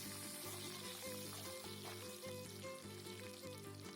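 Garlic fries in oil with cumin and dried chilies in a pan, giving a steady, even sizzle with a faint repeating rhythm throughout; no voices.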